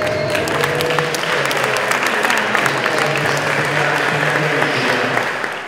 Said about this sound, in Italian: facciamo un applauso al barone